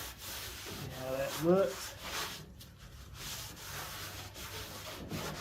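Sandpaper around 120 to 220 grit rubs over rusty metal on a classic car, a soft scratchy back-and-forth scraping at moderate volume, with someone speaking briefly over it.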